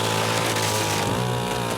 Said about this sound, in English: that's definitely not how you want to use a chainsaw to cut down a tree